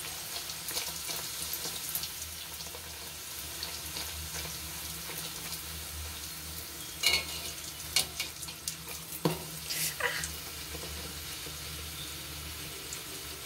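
Naan puri frying in hot oil gives a steady, fairly quiet sizzling hiss, with a few sharper crackles and clicks of a utensil in the pan toward the end.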